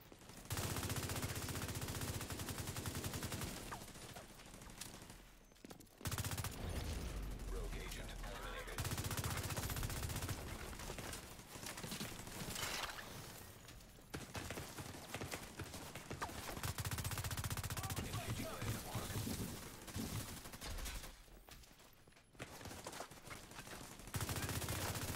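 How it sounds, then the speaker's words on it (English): An automated turret in The Division 2 fires at the player, a faint stream of machine-gun bursts repeating with short pauses between volleys, with some talking mixed in. "Why is that turret still shooting me?"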